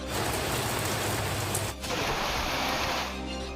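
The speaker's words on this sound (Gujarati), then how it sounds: "કમોસમી વરસાદે હાહાકાર મચાવ્યો" Dense, loud unseasonal summer rain pours steadily, a continuous roaring hiss with a brief dip partway through.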